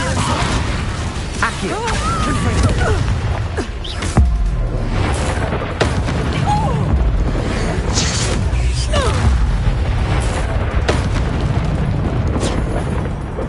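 A Confringo fire spell bursts in Hogwarts Legacy, a loud, sustained roaring blast with booming surges and crackling debris that fills the whole stretch, while character voices call out over it.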